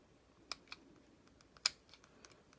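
Scissors snipping craft material for making bows, heard as a few quiet, sharp clicks and snips spaced irregularly, close up in a quiet room with no talking.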